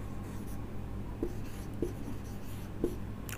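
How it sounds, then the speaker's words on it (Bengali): Marker or chalk writing on a board during a chemistry lesson, with faint scratchy strokes and three light taps spaced about a second apart over a steady low room hum, no voice. "আমি 1 নম্বর প্রশ্নের উত্তর লিখছি"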